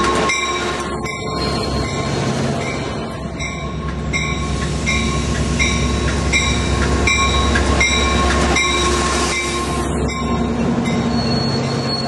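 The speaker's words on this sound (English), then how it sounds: "Amtrak California Capital Corridor train number 729 approaches the station" An Amtrak California Capitol Corridor passenger train rolls into a station with a heavy rumble, wheels squealing in repeated high-pitched bursts as it slows, continuous and close.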